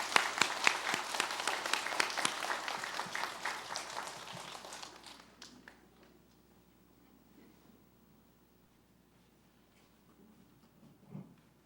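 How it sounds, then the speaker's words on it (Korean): A church congregation at a Sunday service in Gwangju applauds retired elders, steady loud clapping for about five seconds that thins out and fades, followed by quiet room noise and a faint thump near the end. "축복의 박수로 우리 격려해 주시기를 바랍니다"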